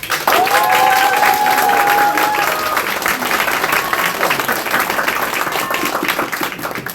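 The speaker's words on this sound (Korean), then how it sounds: "여러분 박수 한번 보내주십시오" An audience at a Korean election-candidate press conference claps enthusiastically: steady, loud, close applause from a sizable crowd, with a few voices briefly calling out over the clapping early on.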